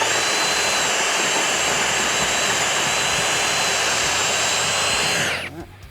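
A Ryobi drill bores a lock hole through an interior door, giving a loud, steady, high motor whine that runs continuously and cuts off abruptly near the end.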